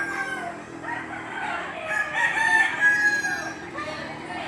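A yellow-legged gamefowl rooster at the Lipa livestock auction market in Batangas gives one drawn-out crow, close and clear, over a low background murmur.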